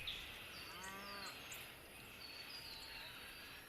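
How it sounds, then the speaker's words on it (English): Cows moo in a strategy video game, a single low drawn-out moo heard faintly over quiet ambient game sound with soft bird-like chirps and no speech. "look at all those cows"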